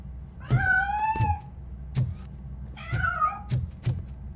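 A cat in the video game RoboCop: Rogue City meows repeatedly, with several drawn-out, rising meows close and loud over a low rumbling background, plus short thumps between them.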